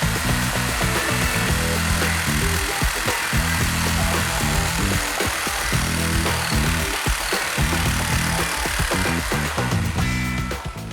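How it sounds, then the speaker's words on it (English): A special window saw cuts plaster away from an old window frame during window replacement, a loud, continuous buzzing roar that wavers in pitch as the blade bites and stays close throughout. "Plaster is removed from the old frame using a special window saw."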